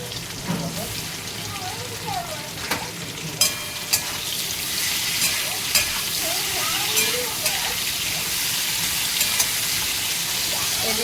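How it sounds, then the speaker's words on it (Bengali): Teasel gourd frying in oil in a wok produces a continuous crackling sizzle with scattered sharp pops and clicks, while a voice talks faintly underneath. "কড়াই বসিয়ে দিয়েছি চলো তেল দিয়ে দিয়েছি তারপরে রান্নাটা স্টার্ট"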